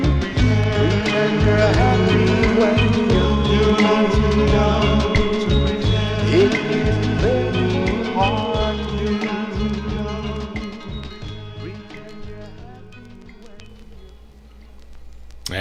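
Vinyl playback of a 1966 Philadelphia soul record on MGM, with full band and vocals at a steady loud level, fading toward the close.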